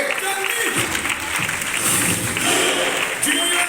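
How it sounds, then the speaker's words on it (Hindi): Loud audience applause at a Hindi-language recognition event, a dense sustained roar of clapping mixed with voices and crowd noise, close and strong from start to finish. "बार जोरदार तालियां सभी के लिए"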